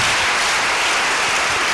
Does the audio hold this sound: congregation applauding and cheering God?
yes